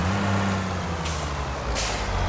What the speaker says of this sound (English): We can park our dump truck in here.